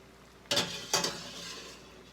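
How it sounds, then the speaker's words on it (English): A spoon scrapes through lemon garlic pasta sauce in a pan, making two quick, close stirring strokes over a faint sizzle. "Stir this up and see where I'm at on it"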